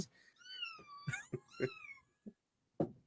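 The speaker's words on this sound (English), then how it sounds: "The cat's just getting attacked by cat." A cat yowls and meows in a series of drawn-out, wavering cries, close and fairly quiet, broken by short sharp squalls and brief pauses as it is attacked by another cat.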